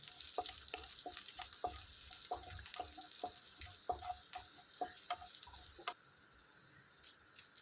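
Sliced onions sauté in a pan for banana stem thoran, a soft continuous sizzle with frequent light scraping and tapping from stirring, fairly close and quiet.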